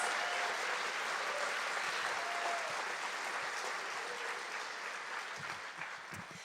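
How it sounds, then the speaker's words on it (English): Dense, sustained applause from a theater audience at an environmental prize ceremony, a broad wash of clapping that slowly fades slightly toward the end. "please give them another round of applause."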